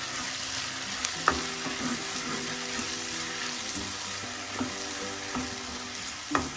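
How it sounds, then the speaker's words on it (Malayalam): Onions sautéing in a pan for squid masala, a steady close sizzle of frying with occasional clinks and scrapes of stirring breaking through at irregular intervals. "സവാള എല്ലാം ഒരു വിധം വഴണ്ടിട്ടുണ്ട്."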